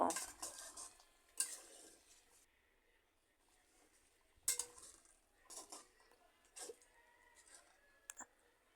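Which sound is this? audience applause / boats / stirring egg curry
stirring egg curry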